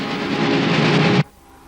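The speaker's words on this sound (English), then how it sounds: "Yet today, these trains still run the rails." A passenger train runs on the rails with a steady, loud rumbling roar for just over a second, then cuts off abruptly to quiet.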